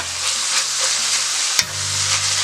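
Sausage browning in a skillet for a country breakfast casserole, giving a steady, close hiss of sizzling fat with one brief clunk partway through.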